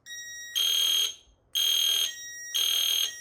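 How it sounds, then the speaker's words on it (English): A fire alarm panel sounds the temporal 3 pattern, three long loud tones with short gaps, from a piezo sounder and horns no longer in sync, close and alone. "You can hear the temporal 3 on the piezo is no longer in sync with the horns."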